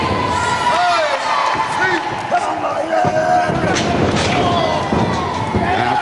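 A wrestler slams onto the ring mat during a televised World of Sport wrestling bout, a dull thud buried under constant commentary and crowd noise.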